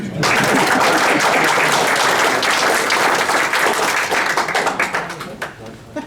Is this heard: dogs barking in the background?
no